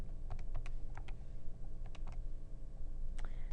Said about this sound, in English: you can go to your y equals feature on your calculator, type in your function